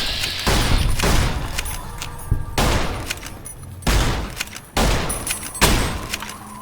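Rapid bursts of gunfire from a makeshift rifle in the video game Fallout New Vegas, several loud close volleys of repeated shots separated by short pauses.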